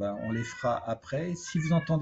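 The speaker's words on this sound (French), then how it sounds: "c'est mon chat qui n'est pas content parce que je ne m'occupe pas de lui" A pet cat, unhappy at being ignored, meows in a few plaintive, drawn-out cries woven between a woman's close-up French speech.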